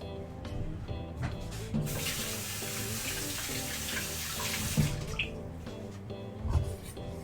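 Steady running water from a tap, a continuous broadband wash with faint clinks and splashes in a kitchen setting, close and moderately loud throughout.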